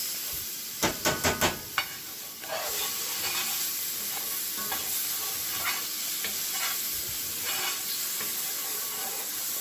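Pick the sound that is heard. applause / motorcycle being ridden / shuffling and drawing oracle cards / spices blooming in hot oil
spices blooming in hot oil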